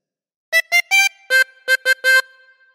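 Seven bright reedy notes from a 24-hole tremolo harmonica, a phrase of This Old Man, come in two quick groups with longer held notes closing each group, played up close and alone.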